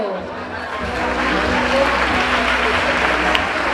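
Crowd at the Ayamonte 2026 carnival children's court coronation gala applauding steadily, a broad wash of clapping and crowd noise that swells slightly and holds, with a low hum underneath.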